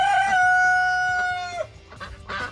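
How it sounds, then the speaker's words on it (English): A farm rooster crows loudly and close by in one long drawn-out call, followed by softer clucking and scattered barnyard noises. "The rooster's really loud."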